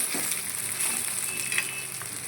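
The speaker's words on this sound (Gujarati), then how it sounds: "પછી અંદર ઢોકળા નાખી દઈશું ફેરવી દઈશું હવે મિક્સ કરી દઈશું સરખી રીતે" Khata dhokla pieces being stirred and mixed in a hot pan give a steady, soft sizzle of frying with faint scraping, close and continuous, with no talking.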